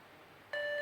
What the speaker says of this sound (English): Ramp up your speed if you need to hit those beeps until you just can't keep up with it.